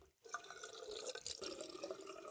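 Water splashing and dripping at a sink while the face is wetted before a wet shave, a run of close small splashes and trickles after a brief silent gap, fairly quiet with no voices.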